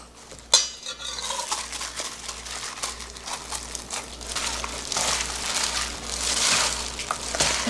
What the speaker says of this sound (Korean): 양념을 넣어서 무치는데요